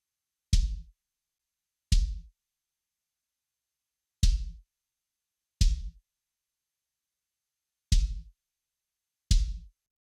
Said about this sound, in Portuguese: Esse é o bumbo que eu gravei.